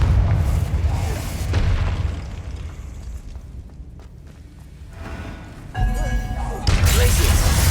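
Loud booming spell blasts from Bombarda and Confringo in the game Hogwarts Legacy, heavy low-end thuds and bursts with a quieter gap in the middle, then renewed impacts near the end under game effects and spoken incantations.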